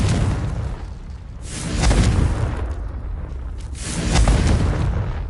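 Explosive spells in the video game Hogwarts Legacy go off as two deep rumbling booms a couple of seconds apart, each swelling and fading over a low background roar, fairly loud with no talking.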